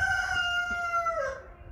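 A rooster kept among hens lets out a single loud, close crow, a sustained harmonic call that tails off and drops in pitch, over a low background murmur.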